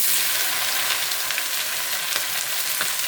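Chopped okra, green beans, onion and green chilli with curry leaves sizzle steadily in a hot pan, a close, continuous hiss and crackle with faint stirring and no talking.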